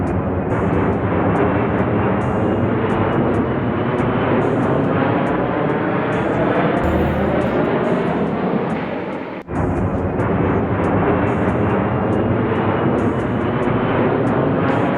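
Loud, continuous roar of an airplane engine in flight, a dense broadband drone with a brief dip midway, then resuming steadily, with no talking.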